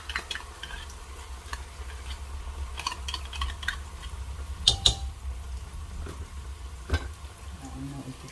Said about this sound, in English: So add the tin tomato and let it fry with the onions.